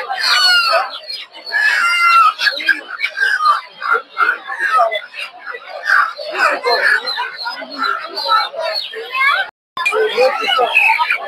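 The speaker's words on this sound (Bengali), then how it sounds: "দেখতে পাচ্ছেন এদিকেও আছে কিছু ফার্মি মুরগি" Farm chickens at a busy poultry market cluck and squawk continuously and loudly, mixed with a dense crowd of voices and market chatter throughout.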